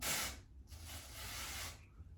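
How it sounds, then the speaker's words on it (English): Two bursts of aerosol hairspray hiss up close, a short blast followed by a longer one, separated by a brief pause. "Spray some underneath there."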